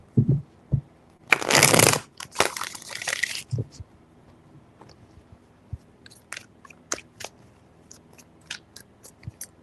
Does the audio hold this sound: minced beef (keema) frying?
no